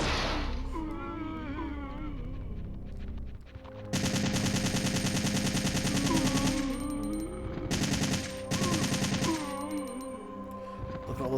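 Rapid automatic gunfire in the video game Dino Crisis rattles in dense, loud bursts with brief pauses, over a constant game music and ambience bed.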